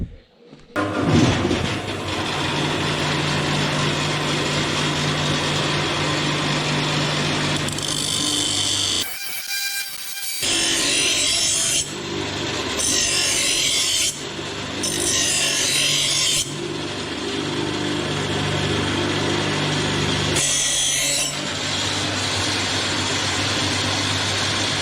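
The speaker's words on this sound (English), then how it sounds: "Time to grind it again." Spear blade being ground with a power tool, a steady loud rasping whine running nearly continuously with several short bursts of harsher, brighter grinding, close up and without talk.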